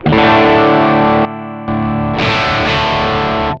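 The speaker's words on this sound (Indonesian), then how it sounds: "yang kanan kayak distortion, yang kiri lebih overdrive." A loud distorted electric guitar chord sustains through a distortion pedal, drops briefly to a thinner tone, then returns with a second gritty overdrive pedal sound, close and steady, no speech.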